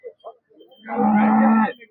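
A single loud, drawn-out cow moo lasting under a second, close by at a cattle sale, preceded by a few faint short sounds.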